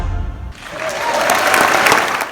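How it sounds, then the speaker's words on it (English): A military audience breaks into applause, many hands clapping together in a dense, sustained wash that swells after a brief lull and holds steady and loud to the end. "A military audience applauded"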